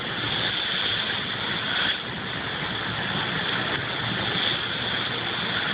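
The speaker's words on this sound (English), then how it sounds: "Wow, I'm driving through a river." A Chrysler 300 drives through about three feet of river water, a steady roar of engine and rushing, churning water continuing without a break, loud and close throughout.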